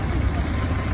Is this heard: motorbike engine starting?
yes